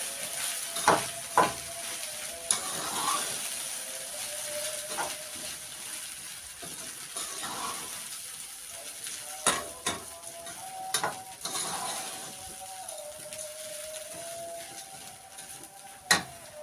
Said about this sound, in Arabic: نقلب شوية عشان يتشوح مع